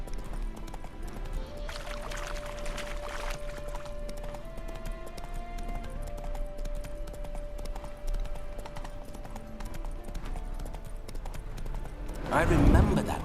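Roach, Geralt's horse in The Witcher 3, clops along at a steady pace, with rhythmic hoofbeats running beneath speaking voices and a sustained background tone, ending in a louder burst of movement.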